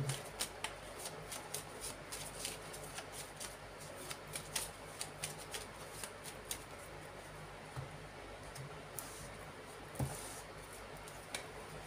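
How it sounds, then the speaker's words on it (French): Oracle cards are shuffled by hand, giving a steady run of soft, crisp flicks and riffles close to the mic. The sound is fairly quiet and carries no talk, with a few louder snaps toward the end. "Donc je recours avec l'oracle de Béline"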